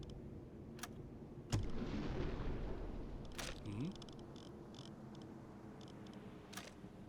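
Torpedo launch from a U-boat in the game UBoat, a sudden low thump followed by a rushing, rumbling swell that fades over a couple of seconds, with sharp clicks and faint mechanical sounds scattered around it.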